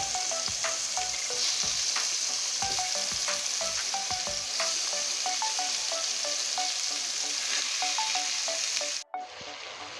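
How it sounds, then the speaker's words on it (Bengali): Chicken pieces for a thin-gravy chicken curry with potatoes sizzle steadily in a hot pan, a dense, continuous frying hiss with scattered pops and light stirring clicks, close and loud, cutting off abruptly near the end. "এই চিকেনগুলোও আমি ভেজে নিয়েছি দেখুন এইভাবে চিকেনগুলো ভেজে নিলে একটুও রান্না করার সময় ভাঙবে না"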